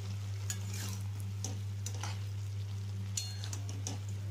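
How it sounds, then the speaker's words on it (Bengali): Hilsa fish heads cooking into chorchori in a pan at home, giving a faint, steady sizzle with scattered soft clicks and scrapes from stirring over a constant low electrical hum. "এই যে মাথা দিয়ে দেখো চচ্চড়ি হচ্ছে"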